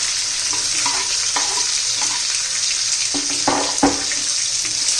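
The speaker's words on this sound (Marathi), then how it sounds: "चांगला परतून घ्यायचं आपल्याला त्याचा कच्चेपणा दूर होईपर्यंत" Sliced onion, garlic and green chili sauté in hot oil, with a steady loud sizzle and the intermittent scrape and knock of a spatula stirring through the pan.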